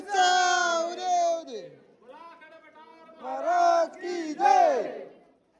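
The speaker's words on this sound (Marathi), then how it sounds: "अशा प्रकारे जल्लोष साजरा होत आहे" Crowd of devotees at a Khandoba temple celebrating with loud, sustained chanting shouts and cries rising and falling in waves, with a quieter stretch midway before the voices surge again.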